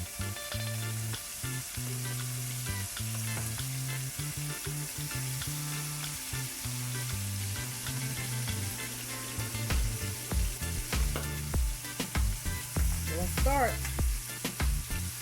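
Shrimp scampi frying in a pan, a steady close sizzle with stirring and scraping, a music-like tonal hum running underneath and sharper clatters near the end.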